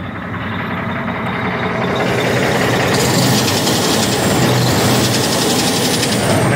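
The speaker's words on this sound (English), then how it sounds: "Let's see if you guys can hear that clacking noise first." An ISX 870 diesel engine with a faulty injector runs loud and close, revved up, a dense rough mechanical roar with a fast rhythmic clacking running through it without pause.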